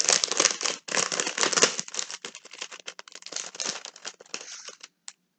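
Crinkly wrapping on a gift parcel being unwrapped, a dense run of close crackling and rustling bursts that thin out into sparser crinkles and stop near the end.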